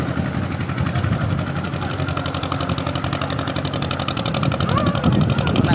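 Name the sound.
ferry boat engine on the Gosaba river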